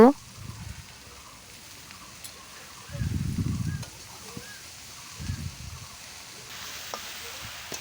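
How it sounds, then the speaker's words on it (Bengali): Beans, cabbage and potatoes fry with spices in a pan, giving a soft sizzle broken by short bursts of stirring, with a voice talking faintly in the background. "সুন্দর করে আমি মশলার সঙ্গে কষিয়ে নিচ্ছি"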